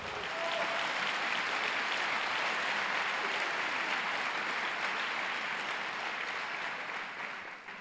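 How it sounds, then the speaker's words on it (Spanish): A church congregation applauds during a sermon, a dense, steady wash of clapping that holds evenly for nearly eight seconds before easing slightly at the end, with no voices over it. "Dele un fuerte aplauso a Dios"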